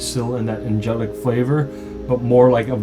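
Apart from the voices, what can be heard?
None of the usual background noises is heard.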